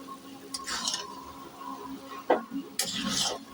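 Finely chopped vegetables being stirred together in a bowl for a spicy mixed chop, with a few soft scraping and clinking strokes of a spoon against the dish, close and moderately quiet.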